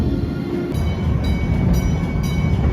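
A steady rumble of a multi-launch roller coaster train rolling on its track at Busch Gardens Williamsburg, with a continuous low roar and faint rattling throughout.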